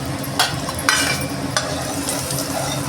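Chana dal and peanuts dry-roasting in a pan, giving a steady soft rustle with a few brief louder scrapes as they are stirred.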